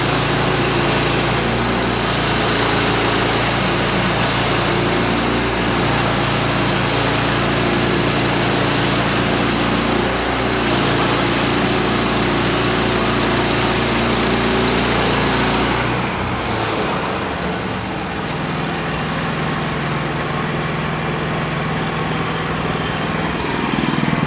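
A log sawmill engine runs steadily and loudly, cutting boards from a log with a constant droning roar, then drops in pitch and load around sixteen seconds as the cut ends and the engine settles.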